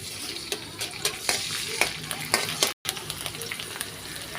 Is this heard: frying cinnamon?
yes